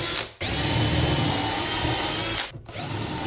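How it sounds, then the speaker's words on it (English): A power drill drives pocket screws into wood for a corner plant shelf, whirring in a sustained, close burst after a short start, then stopping with a brief pause before spinning again. "let me get some pocket holes, pocket screws put in these"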